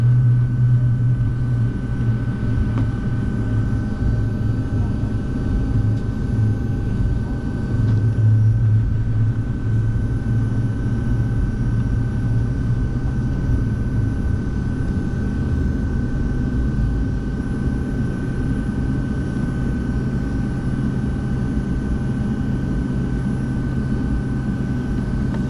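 Airliner on a Delta flight departing Green Bay, Wisconsin, heard from inside the cabin as a steady loud engine roar and rumble holds throughout the takeoff roll, with no talking.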